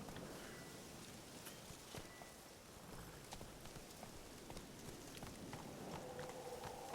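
Steady horse hoofbeats in the video game The Witcher 3: Wild Hunt clip-clop along at a walking pace, moderately loud, over a soft background hiss like light rain, with no talking.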